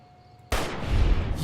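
A gunshot in Fallout: New Vegas, in a cave, cracks out loud and sudden after a quiet hum, followed by a sustained rumbling echo that swells and lingers to the end.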